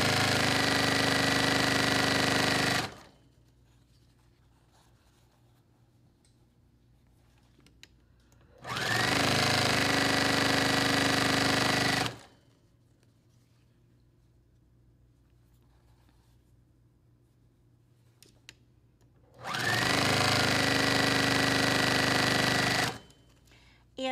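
Sewing machine piecing scrap fabric for a quilt, three loud bursts of steady whirring stitching, each a few seconds long, separated by quiet pauses with a faint low hum.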